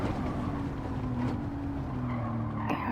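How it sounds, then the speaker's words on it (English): A Mercedes-AMG GT's engine drones steadily on a race track, a continuous mechanical roar held throughout with a brief tire squeal or skid near the end. "AMG engines have a very unique sound. They just sound meaty."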